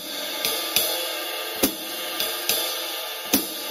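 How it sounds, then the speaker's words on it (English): A drum kit plays a basic swing pattern, with a ride cymbal keeping a steady beat and hi-hats closing on two and four, six crisp metallic strikes over a sustained cymbal wash, close and fairly quiet. "So the ride cymbal rhythm is 1, 2, 3, 4. With the hi-hats in 2 and 4"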